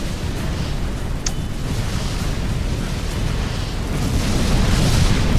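A steady, dense rumble of explosions on a planet's surface in the Sword of the Stars space game, a continuous roaring wash that swells slightly louder toward the end, with no talk.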